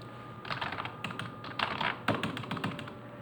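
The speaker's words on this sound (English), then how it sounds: "So now if I start typing anything in here" Fingers tap steadily on a computer keyboard, a quick run of light clicks in bursts with short pauses, close and fairly quiet, with no speech.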